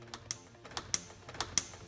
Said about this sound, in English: That's the clip going into the body.